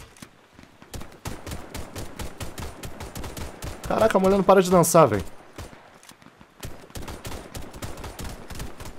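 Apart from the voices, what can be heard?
Beretta gunfire in the video game Warface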